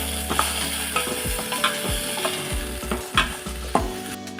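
Chopped ingredients for rasam sauté in a pan with curry leaves, giving a steady sizzle broken by repeated scraping stir strokes that recur every half second or so.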